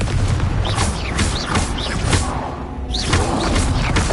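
A Confringo fire spell explosion in Hogwarts Legacy, dense booming blasts with whooshing bursts layered over a constant loud roar of game sound, several impacts in quick succession.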